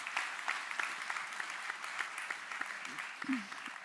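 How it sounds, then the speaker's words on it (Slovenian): An audience applauds at a charity evening discussion, a soft, steady patter of clapping with a voice briefly cutting in near the end. "dovolim aplavz"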